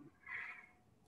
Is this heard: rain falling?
no